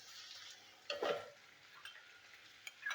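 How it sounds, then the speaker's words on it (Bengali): Chopped onion fries quietly in oil for egg tarka, a soft continuous sizzle broken by a few scraping stirs and light clinks of a spoon against the pan. "পেঁয়াজটা ভালো করে ভাজতে হবে।"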